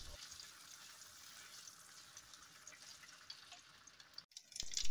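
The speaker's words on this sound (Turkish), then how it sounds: "Kavrulan yağımıza 1 kaşık domates salçası ekliyoruz." Tomato paste hits hot oil in a pan with a faint, steady, hissing sizzle, brief clatter near the end, with no one talking.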